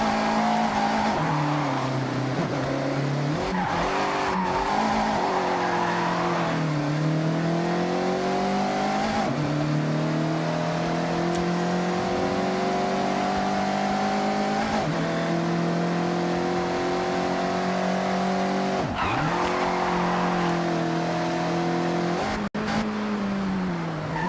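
Mazda MX-5 sliding sideways through corners in the Forza Horizon racing game, its engine note steady and loud throughout with repeated pitch dips and climbs as it shifts and revs, close and continuous with no talk.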